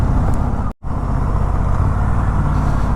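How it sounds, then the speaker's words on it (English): Loud, dense city traffic roar heard while riding an RS 457 motorcycle, a continuous broadband rush of engines and road noise with a very brief dropout near the start. "Let me cross all the city traffic"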